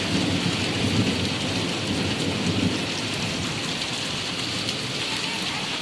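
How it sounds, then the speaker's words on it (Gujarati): Heavy rain with hail pours down in Bhavnagar in a dense, continuous roar, loud and close, with no voices. "જાણે ચોમાસાનો હોય વરસાદ એવો આવે છે."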